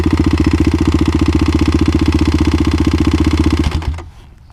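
A damaged Kawasaki KLX351 motorcycle engine runs roughly, a loud, close, uneven thumping idle with a rattling pulse, then stalls and cuts out abruptly near the end.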